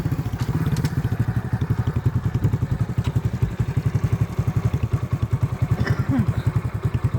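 A motorcycle idles nearby with a rapid, even thumping putter that keeps going steadily, loud and close, outdoors at a tube well, with no talking.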